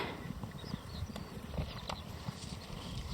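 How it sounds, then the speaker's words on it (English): Clip-clop of horses with riders galloping along outdoors on a warm sunny day on Scotland's Cowal Peninsula, a steady patter of hoofbeats over a continuous outdoor background, with no voices. "Got some horse riders up there,"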